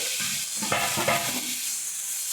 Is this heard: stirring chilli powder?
yes